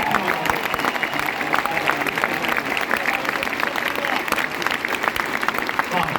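Sustained audience applause at an event, dense steady clapping from a crowd filling the whole stretch at an even loudness.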